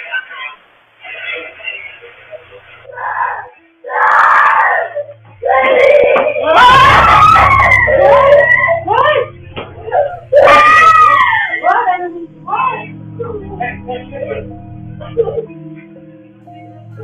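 A girl at night screams and wails in panic, with repeated high, shrill cries and moans broken by gaps, loud and close, over a low background rumble.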